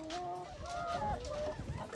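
A Bangkok chicken clucks and calls in a farm pen, its short tonal notes repeating close by over a low, busy background of other birds and shuffling.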